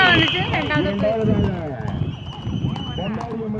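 Racing horses galloping in a horse race, their quick drumming hoofbeats mixed with crowd noise, heard beneath excited commentary spoken in Tamil.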